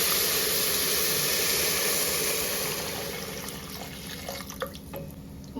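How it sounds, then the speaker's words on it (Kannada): Water pours steadily into a pot while pongal cooks in a home kitchen, a loud continuous rush that thins out toward the end into scattered drips and splashes. "ಇವಾಗ ನಾನು ಇದಕ್ಕೆ ನೀರು ಸೇರಿಸ್ಕೊಳ್ತಾ ಇದ್ದೀನಿ"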